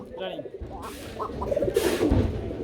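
Pigeons coo at a crowded pigeon market, soft throaty calls rising near the end, mixed with market chatter and other birds.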